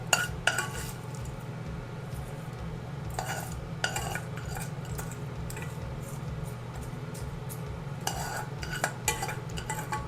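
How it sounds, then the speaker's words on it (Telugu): Metal spoon stirring tempering into veld grape (nalleru) chutney in a pot, with repeated close scraping and clinking strokes at a steady rhythm over a faint low hum. "ఇప్పుడు మనం పోపు ఇందులో వేసేసుకోవచ్చండి."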